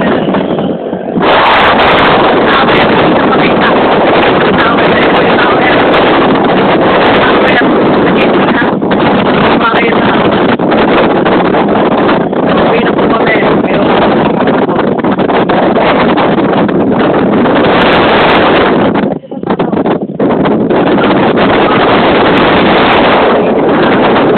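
Loud, constant wind buffets the microphone in a roaring rush that barely lets up throughout, with a brief dip near the end.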